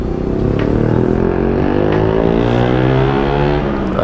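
Motorcycle exhaust revving up close after welding repair work, a loud continuous engine roar whose pitch climbs steadily over a few seconds, with no talk over it.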